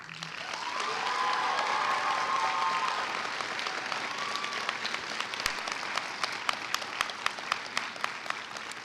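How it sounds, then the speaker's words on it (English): New graduates at a University of Minnesota Rochester spring commencement applaud their families, a swell of clapping with a few cheers that rises, holds, then thins into scattered individual claps. "this is an applause of gratitude from new UMR alumni"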